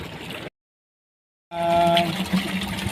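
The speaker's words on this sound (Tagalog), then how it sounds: "nag-get na tubig para po dito ilang mga fingerlings na kukunin doon sa palaislaan" Water is taken on board a boat used to transport milkfish fingerlings, a steady rushing and gushing flow heard close by, with a second of silence cutting through the middle.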